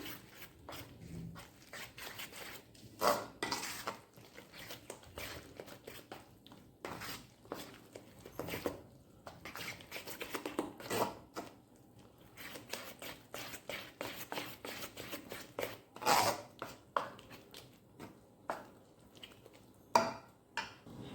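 Bajra (pearl millet) dhokla batter is mixed with salt in a bowl, making quiet, close, irregular scraping and slapping strokes that repeat throughout with no talking.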